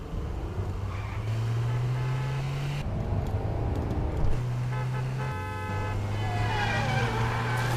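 A car drives in the Citizen Vigilante video game, its engine droning loud and steady throughout, with horn-like tonal honks and traffic noise layered over it and no speech.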